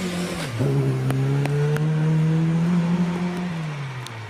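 A Triumph TR4 four-cylinder sports car accelerates up the Prescott hillclimb course, its engine note rising and falling through gear changes as it passes fairly near, loud and alone without commentary.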